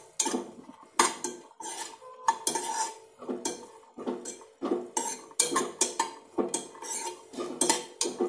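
A spoon scrapes and clinks against a pan in quick repeated strokes as nuts roast in ghee, with short bursts of clatter coming every half second or so and quiet gaps between them.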